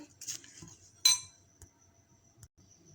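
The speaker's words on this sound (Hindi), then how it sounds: "इन मसालों को आपने अच्छी तरह से मिक्स करना है" Korma masala spices being mixed in a bowl: a few sharp metallic clinks of a spoon against the dish with soft scraping between, faint and close in a quiet kitchen.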